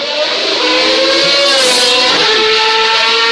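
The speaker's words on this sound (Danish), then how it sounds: "Nogle af verdens stærkeste racermotorer, nogle af verdens mest optimerede racerbiler, som får lov at strække ud" Formula 1 race cars accelerating at a street event in Aarhus, loud screaming engines rising in pitch as they pass close by, layered whine that swells and fades without any speech.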